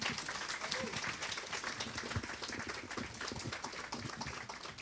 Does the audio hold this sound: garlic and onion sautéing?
no